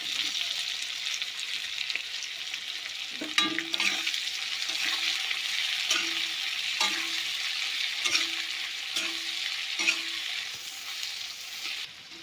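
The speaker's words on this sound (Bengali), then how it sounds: "এবার দিয়ে দেবো আমি পেঁয়াজ কুচানোটা।" Chopped onion frying in a pan after garlic, for a special potato curry, gives a steady close sizzle with soft stirring scrapes recurring every second or so throughout.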